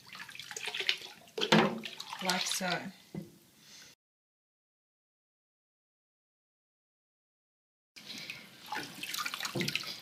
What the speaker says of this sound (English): I add it in, and then I just mix the water around